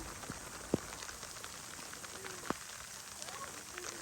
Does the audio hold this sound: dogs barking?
no